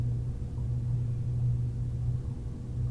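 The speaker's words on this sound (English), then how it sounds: "I can hear the most beautiful sound of thunder" Low, continuous thunder rumbles steadily through a calm evening setting with rain about, a deep, sustained drone that stays fairly even from start to finish with no voices.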